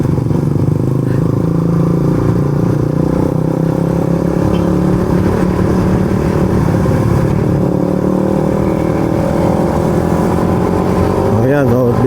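A Yamaha Sniper 135 motorcycle rides steadily along a road, its engine droning continuously with wind rush and rumble throughout, close and loud, with some speech-like murmur blended in.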